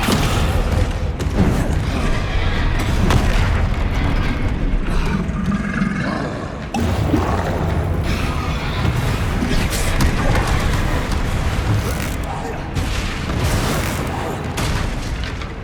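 Dense, continuous booms and blasts from Descendo and other combat spells during a troll fight in Hogwarts Legacy, loud and sustained with heavy low thuds and crackling bursts and a brief dip near the middle, with shouted voices mixed in.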